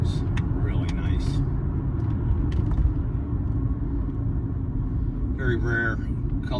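A 2004 Mercedes-Benz S55 AMG on the move gives a steady, low rumbling road and engine drone heard from inside the cabin, with brief faint voice-like sounds near the end.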